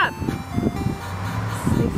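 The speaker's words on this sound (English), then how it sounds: "the ice cream truck is here" An ice cream truck pulls up with its jingle tone sustained through the clip, mixed with vehicle rumble and excited voices of people talking and shouting over it.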